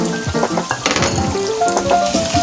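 Green chillies, some chopped and some whole, fry in a pan with a loud, close sizzle. Stirring clatters and scrapes recur throughout the short stretch, and no one speaks.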